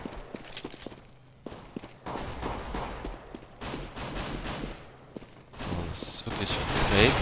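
Glock pistol shots crack in Counter-Strike on de_train, sharp single reports scattered through a busy match mix with footsteps and other gunfire, growing louder and denser toward the end.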